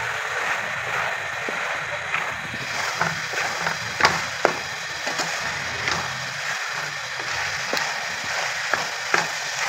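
Bottle gourd (lauki) pieces frying in about one and a half cups of ghee for halwa, a steady close sizzle with occasional stirring clinks and scrapes throughout, no talking.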